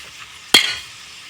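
Fenugreek leaves being stirred and sautéed in a pan for a potato curry: one short, sharp burst of sizzling and scraping about midway, trailing off into a faint hiss.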